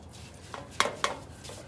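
A brush knocks and clinks against a lawnmower carburetor and the side of an old pail of fuel, giving a few sharp taps and scrapes, close and moderately loud, with no voices.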